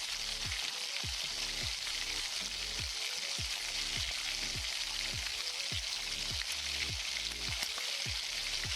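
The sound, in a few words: frying chopped onions with salt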